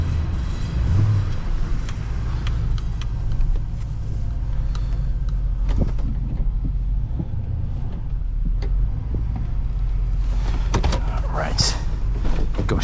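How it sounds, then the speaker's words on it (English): Power windows of a 2002 Chevrolet Silverado LS 2500 HD pickup, a low motor hum running inside the cab under talk, with small clicks and a brief whirring rise near the end. "These windows are auto down."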